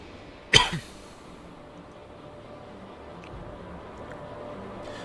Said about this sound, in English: I need to get this cough out.